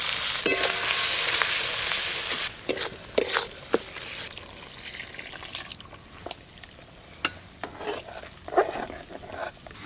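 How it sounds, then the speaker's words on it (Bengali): Ginger, cumin and spice masala with chilli powder, turmeric, chopped tomato and salt frying for khichuri: a steady close sizzle that thins out partway, with scattered sharp stirring scrapes and clinks against the pan. "দেখতে দেখতে ঝটপট খিচুড়ির জন্য মশলা কষানো হয়ে গেল।"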